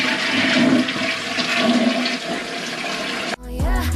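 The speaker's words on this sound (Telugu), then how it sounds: "యూరోప్లో కొన్ని టాయిలెట్స్లో ఫ్లష్ కాల్ దగ్గర ఉంటుంది" A European toilet flushes with a loud, steady rush of water for about three seconds, then cuts off abruptly into a short refill gurgle, with no talking.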